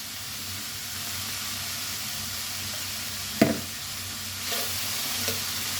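Potatoes seasoned with salt, turmeric and ground coriander sizzle as they are sautéed in a pan, a steady close frying hiss broken by a sharp spoon scrape and a few softer stirring strokes.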